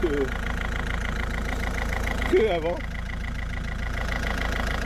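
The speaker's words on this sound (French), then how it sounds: "le moteur qui tourne quand même beaucoup mieux" A Peugeot 207 car engine idles with a steady low hum while someone talks over it nearby.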